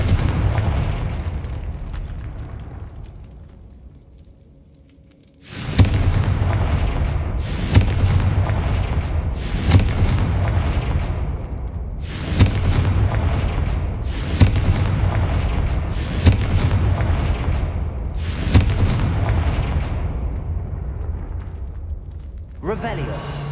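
Confringo fire-blast spells explode in Hogwarts Legacy: about eight loud, booming blasts land roughly every two seconds after a quieter opening, each with a sharp crack and a decaying rumble over a continuous low ambient drone.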